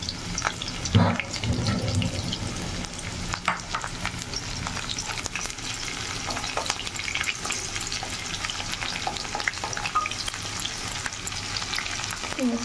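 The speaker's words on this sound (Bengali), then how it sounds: "তো এখন আমি পেঁয়াজটা ছেড়ে দেব তেলে।" Chopped onion sizzles loudly and steadily in hot oil in a home kitchen, the base for a dried-fish curry, with clinking stirring strokes and brief splashes of water near the start.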